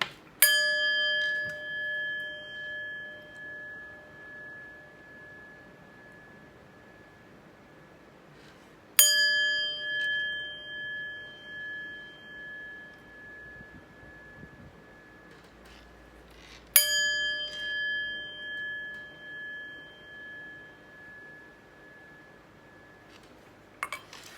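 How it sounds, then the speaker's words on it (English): A chime is struck three times at even, widely spaced intervals, and each clear metallic ring lingers and fades slowly in a quiet room. "And let's chime."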